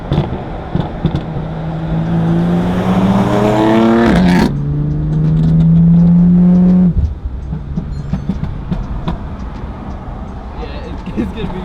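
Loud car engine revving and pulling away in rising gear-like sweeps, then holding a steady roar before cutting off abruptly, with quieter road noise after; the car is wrapped in Christmas lights.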